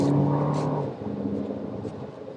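A Toyota Grand Highlander Limited hybrid pulls away from about 20, a brief engine hum under road and tire noise that fades to a quieter whir, heard from inside the cabin.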